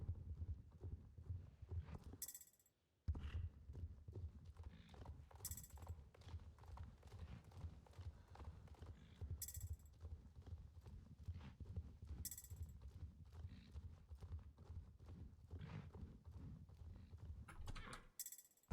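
Horse hooves clip-clop steadily and continuously in the online game Star Stable Online, close and rhythmic, with brief breaks and a few short bright chimes over the footfalls, no talking.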